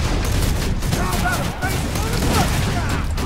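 Rapid, dense gunfire and explosive booms from Borderlands 2 gameplay, loud and continuous across the clip, with players talking over the combat.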